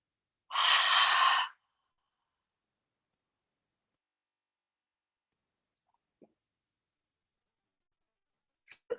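A single deep, airy exhale during a yoga class, heard close and alone, followed by long quiet with a couple of tiny faint clicks.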